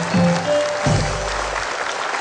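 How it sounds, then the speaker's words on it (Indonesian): TV studio audience applauding at the start of a live comedy show, a short, broad wash of clapping from the crowd with a brief voice near the beginning. "Beri tepuk tangan Anda."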